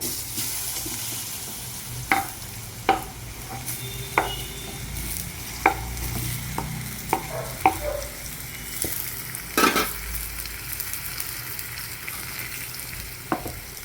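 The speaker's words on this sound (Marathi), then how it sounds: "हळद टाकायची अर्धा चमचा आणि हे बटाट्याचे चकते टाकायचे" Potato slices with turmeric frying in a pan: a continuous close sizzle punctuated by repeated sharp taps and scrapes of a spatula against the pan, with no voices.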